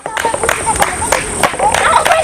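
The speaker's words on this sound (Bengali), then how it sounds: "হাততালি দাও হাততালি দাও হাততালি দাও" Several people clapping their hands in quick rhythmic bursts during a women's ball-carrying race game, loud and close, mixed with crowd chatter and shouting voices.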